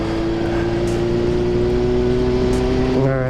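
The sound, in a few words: 1975 Honda CB750 motorcycle engine revving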